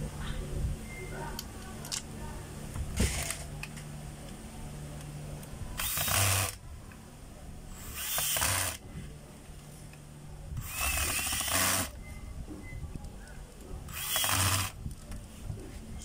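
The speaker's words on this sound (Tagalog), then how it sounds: "Lagyan na natin yung 4 na screw mga kabay" A power driver runs four screws into a DeWalt D25133 rotary hammer while a new spindle is fitted, in short whirring bursts of about a second each, separated by pauses, close by.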